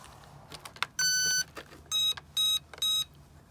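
A radio-controlled airplane gives a short series of electronic beeps after its flight battery is installed: one long tone, then three evenly spaced shorter beeps, close and clear over faint background clicks.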